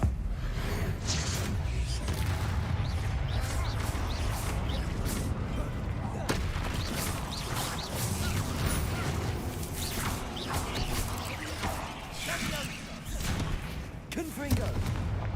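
Confringo spell blasts in Hogwarts Legacy, heard as repeated fiery impacts and crashes over a loud, dense bed of game combat and music, with voices speaking at times.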